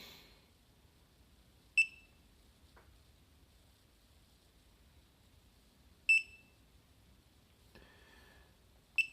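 A Klein Tools ET110 carbon monoxide detector booting up, with three short, sharp electronic beeps spaced several seconds apart and a faint click between them, all heard close against a quiet background.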